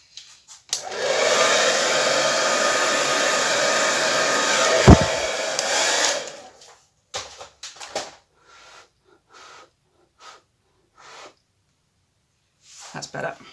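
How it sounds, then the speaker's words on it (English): Hairdryer blowing a turquoise paint base on a poured canvas, a loud steady roar for several seconds that cuts off, followed by faint scattered noises and brief talk. "Let's use the hairdryer just to blow that turquoise base back."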